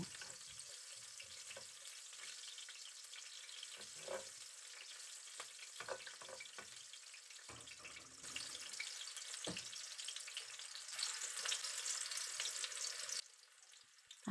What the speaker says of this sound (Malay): Tumis bawang besar yang lebih tadi sedikit tu ya. Tumis hingga kuning dan layu.